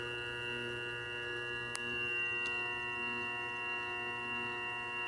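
Grizzly G0758 mill spindle running in its low speed range, a steady close electric whine with layered tonal hum that stays constant throughout, broken by one brief click, no talking.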